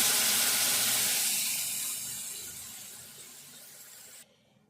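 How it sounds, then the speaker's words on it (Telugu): Tamarind juice is poured into a cooking pot of okra stew. A liquid pours and splashes steadily, fades gradually, then stops abruptly. "ఇప్పుడు చింతపండు సూపు పోసుకుందాము"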